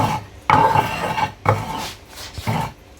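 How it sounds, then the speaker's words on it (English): Rasping, scraping strokes as white potash and Ajija potash are ground together for Owo soup, three rough bursts at about one-second intervals, close and fairly loud with no talking. "Both the Ajija potash and the white potash, I'm grinding both of them together."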